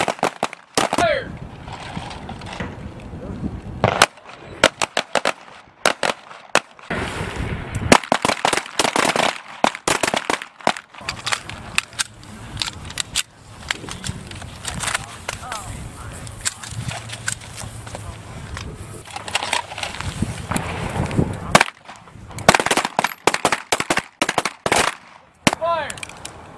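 A P320 M17 handgun fires repeatedly on a training range, sharp cracks in irregular clusters through the whole stretch, with voices talking between shots.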